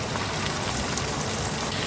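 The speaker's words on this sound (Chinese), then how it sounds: "鲜红的牛肉直接下锅" Raw red beef sizzles in a wok over a home stove, a steady, dense hiss of frying that holds at an even level without breaks.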